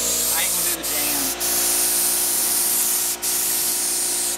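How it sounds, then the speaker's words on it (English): Steady spray-gun hiss while paint is applied to a 1969 Camaro body in a backyard garage, continuous and close, with brief breaks where the trigger lets off. "I don't think I'm gonna have enough spray of the material."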